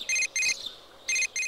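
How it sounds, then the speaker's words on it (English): An electronic cell phone ringtone in the video game Persona 4 Golden chirps in short repeated bursts, a pair of trills, a pause, then another pair. "Your cell phone is ringing."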